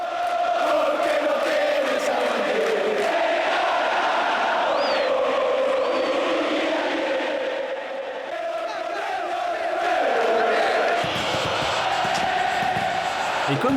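Boca Juniors and River Plate football fans chanting in a packed Argentine stadium, a loud, continuous roar of massed voices singing and shouting, swelling and shifting throughout.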